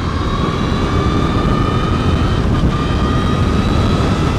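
A 2014 Brammo Empulse R electric motorcycle accelerates in a steady, loud whine with high tonal motor hum over heavy rushing wind noise, continuous and without a break.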